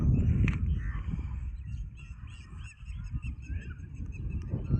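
Foreign migratory birds at Sivanthipatti near Tirunelveli call out in a series of honking, goose-like cries, some near and some farther off, over a low outdoor background rumble, with no talking.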